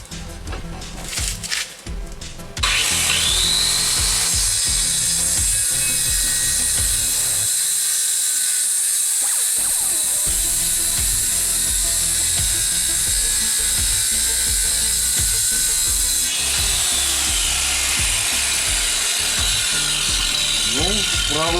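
A loud, steady whine of a new Procraft KR2000 circular saw cutting through wood, starting after a few seconds of clattering handling noise and running on continuously.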